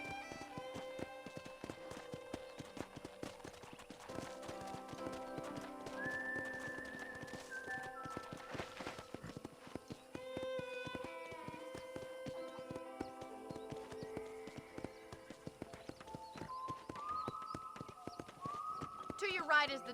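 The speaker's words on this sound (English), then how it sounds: "let's see if you can still ride a horse" Horse hooves clip-clop steadily during a ride around a ranch in the remastered Red Dead Redemption video game, layered with game music and a voice talking throughout.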